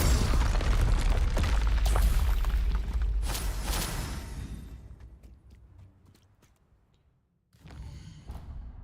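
Confringo fire spell blasts in Hogwarts Legacy, a loud booming explosion with crackling bursts that slowly fade to near silence, followed by a softer burst of noise at the end.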